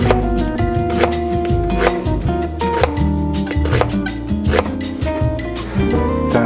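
Onion being chopped for a blue cheese salad dressing, a run of loud, close, rhythmic knife strikes on a cutting board, with music playing underneath.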